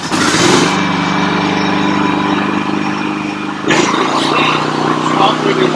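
A Champion dual fuel generator's small engine runs steadily and loud at wide open throttle, a constant buzzing drone with a brief surge partway through and a voice talking over it.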